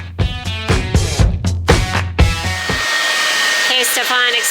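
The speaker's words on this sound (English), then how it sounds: "Stephane, explain what you're doing with the blow dryer." Hair dryer running aboard a sailboat on a transatlantic passage, used to hunt for leaks. Sharp close bangs and knocks sound over its low whir, then the steady blowing continues alone.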